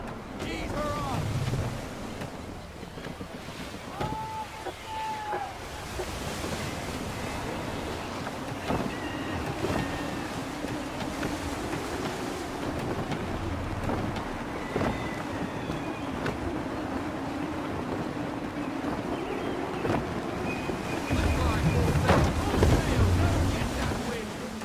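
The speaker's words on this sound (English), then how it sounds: "Gusty winds can be difficult to manage." Gusty wind sweeps over the open sea in Assassin's Creed III, whooshing in uneven surges over the wash of waves. Faint creaks and knocks come through, and the gusts swell louder near the end.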